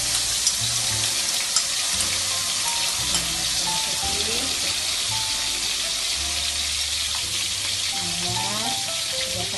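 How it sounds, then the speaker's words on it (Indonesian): Two spoonfuls of hot oil sizzle steadily in a frying pan, ready for stir-frying clams, a continuous bright crackle with faint low hum and occasional soft clinks beneath it, close and even throughout. "ini sebelumnya sudah saya panaskan dulu minyaknya untuk kita tumis ya"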